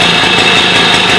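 A restored Motobécane AV 44 moped engine runs steadily at close range, a loud, even buzzing drone with no talk.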